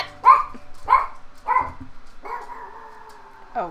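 A dog barks indoors, several sharp barks in a loose rhythm that end in a longer whining yelp, fairly close and loud with no talking.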